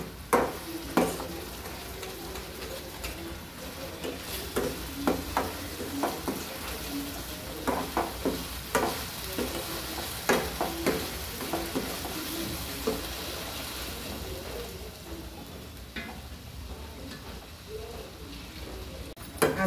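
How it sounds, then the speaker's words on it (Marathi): Masala being fried in oil for a Maharashtrian mutton rassa, with soft, steady sizzling under repeated stirring and scraping taps of a spoon against the pan, close and moderately quiet. "ह्याच्यामध्ये मसाला छान परतून घेणार आहोत तेल सुटेपर्यंत"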